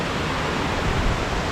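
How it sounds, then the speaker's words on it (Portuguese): Waterfall rushing at the top of the Lago Azul falls in Jaguariaíva, Paraná, a loud, steady broadband roar that fills the scene without pause. "Chegando aqui na parte de cima da cachoeira."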